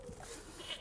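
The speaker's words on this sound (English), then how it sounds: "I'm cleaning a house and there's goats just walking around" Goat bleating inside a house with goats wandering through the rooms, a short, fairly close bleat or two against low background noise.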